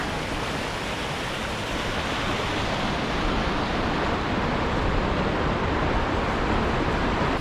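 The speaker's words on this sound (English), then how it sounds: "The start of the Riverwalk is nice and simple with a few benches and the sound of the rushing water." Rushing river water along the Estes Park Riverwalk in Colorado makes a loud, steady broadband roar that stays constant throughout, with no voices.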